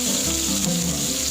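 Chicken pieces frying in hot oil, a loud continuous sizzle close up with a bubbling crackle underneath, steady throughout with no talking.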